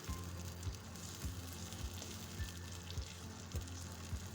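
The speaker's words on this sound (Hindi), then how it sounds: "टमाटर मैं भून रही हूँ अच्छे से" Tomato puree fries over a medium flame for kabab karahi, a soft, fairly quiet bubbling sizzle with regular low pops and spatters recurring every half second or so.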